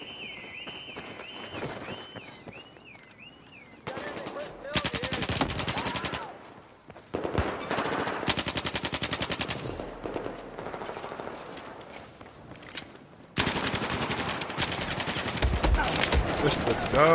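Automatic and rapid gunfire from Battlefield 4 multiplayer combat, loud bursts of shots with short pauses between them, mixed with game effects and some voices.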